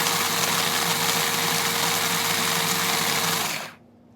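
An electric blender purees chili peppers for a Congolese black chili sauce, giving a loud steady motor whine with a droning hum that winds down and stops near the end.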